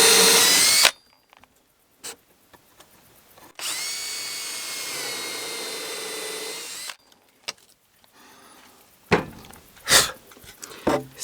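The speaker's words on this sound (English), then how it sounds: "then I drill holes here" A power drill bores holes in wooden floor boards during a floor installation, one sustained whining run of about three seconds between sharp knocks and clatters of handling.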